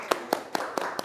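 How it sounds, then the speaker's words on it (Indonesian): Five crisp, evenly spaced hand claps ring out close by, a small rhythmic round of clapping for a student named Ricky at a university scholarship talk, with no voices over them. "Boleh dong tepuk tangan dulu buat si Ricky ini."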